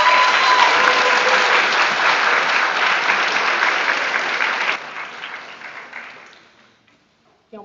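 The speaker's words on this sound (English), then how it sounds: "Let's give her another round of applause." Loud, sustained applause from a crowd at a commencement ceremony, steady clapping that fades out over the last few seconds.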